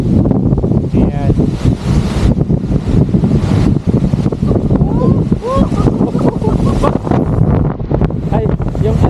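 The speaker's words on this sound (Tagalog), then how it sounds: "Ang lakas ng hangin, no?" Strong wind buffets the microphone in loud, continuous gusts beside green water near Canmore, Canada, with people talking over the roar throughout.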